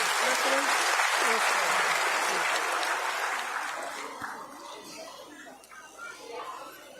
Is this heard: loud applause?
yes